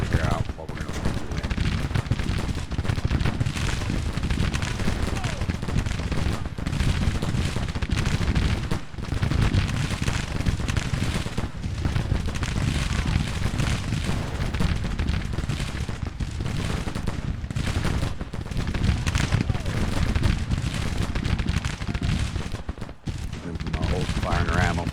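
Civil War infantry firing in Grand Tactician, a dense, continuous crackle of massed musketry with heavier booms mixed in, sustained for the whole stretch.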